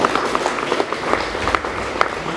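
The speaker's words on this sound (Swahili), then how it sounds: "Pigia Yesu makofi." A congregation claps during a Sunday church service, loose and fairly close, with distinct individual claps scattered through a busier background of crowd noise.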